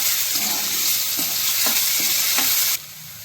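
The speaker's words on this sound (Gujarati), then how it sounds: "પછી આપણે બટેકા કાપેલા એડ કરી દઈશું અને સારી રીતે મિક્સ કરી દઈશું." Cut potatoes and peanuts sizzle steadily in a hot pan with cumin, asafoetida and red chili, while a spoon scrapes and stirs in several short strokes before the frying noise suddenly drops.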